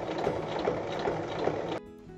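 A sewing machine topstitches around the edge of a lining, running in a fast, even mechanical rattle at close range before stopping abruptly near the end, leaving quiet room tone.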